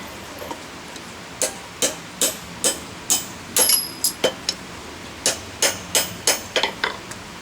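A hammer drives rivets out of forged slot jaw tongs with a drift, giving a steady series of sharp metallic strikes in fairly regular rhythm, up close with nothing else behind them.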